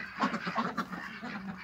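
Ducks in a village yard give a brief burst of nasal quacks and murmurs, close and moderately loud over a low background.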